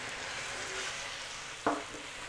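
Garlic frying in melted butter in a pan gives a soft, steady sizzle, quiet and close, with one brief stir or clink near the end.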